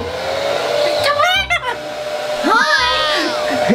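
A loud blower roars steadily up close while drying an Eclectus parrot after its bath, its pitch wavering as the airflow shifts, with a brief dip midway and sweeping whistly tones over the hum.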